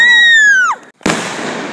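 Sodium thrown into water off a dock: a whistling fizz that drops in pitch, a brief hush, then a sharp loud bang followed by a sustained roaring hiss.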